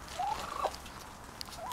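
Rescued turkeys feeding as a new male joins four hens: a single rising-and-falling gobble rings out clearly, followed by a shorter one near the end, over a low, steady background murmur.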